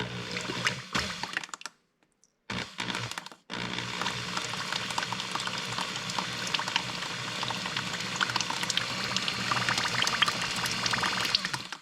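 Pump drawing oil out of a jug and feeding it into an F600 engine, a bubbling, gurgling liquid churn that runs steadily for several seconds after a few brief stops and starts.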